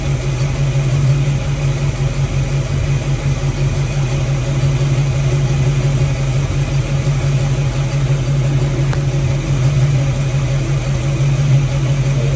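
A car engine settles into a smooth, steady idle for the whole stretch, a constant low rumble close by with no revs and no one talking.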